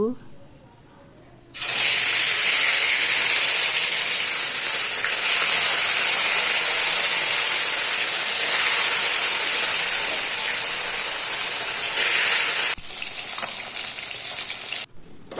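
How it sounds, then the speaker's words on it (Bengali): Rohu fish, coated in salt and turmeric, frying in hot oil gives a loud, steady sizzle that continues without a break for over ten seconds, briefly dipping near the end. "রুই মাছটা আগে ভেজে নেব"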